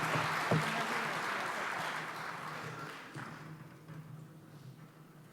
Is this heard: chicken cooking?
no